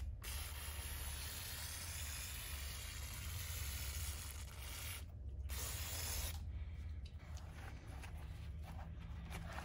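Finish Line disc brake cleaner sprayed through a long nozzle onto a bicycle's rear disc brake, a steady close hiss running almost continuously with brief pauses and a few faint mechanical clicks.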